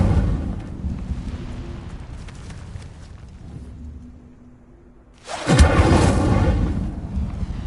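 A fire spell erupts in the Hogwarts Legacy game, a sudden loud whooshing roar of flame swelling after a quieter rumbling lull, then holding as a dense crackling burst.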